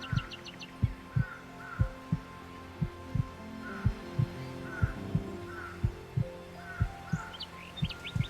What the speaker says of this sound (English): First of all, Hamsky, I can barely hear your voice over that heartbeat.